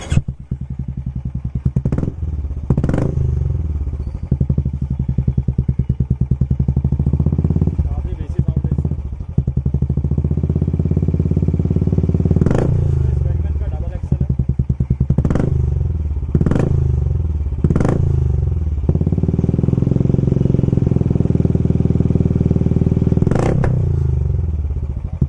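A Royal Enfield Classic 350 BS6 fitted with a double XL silencer exhaust idles with a deep, loud, steady thump, punctuated by several sharp revs and clattering bursts; a voice speaks intermittently over it.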